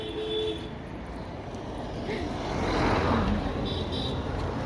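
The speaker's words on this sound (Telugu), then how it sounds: "కారు వస్తుంది." A car approaches along a road and its steady engine and tyre rumble swells as it draws nearer, while people talk and a child is heard close by.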